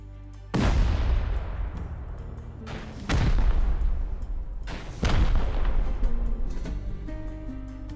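Three heavy C4 and rocket explosions in Rust, each a sharp booming blast with a long rumbling decay, spaced a few seconds apart and heard from a moderate distance.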